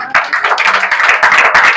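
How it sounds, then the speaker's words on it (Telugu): A church congregation clapping hands together in a fast, steady rhythm, loud and close, with many overlapping claps forming a continuous patter, alone without talk. "చప్పట్లు కొట్టడం అందరూ కూడా."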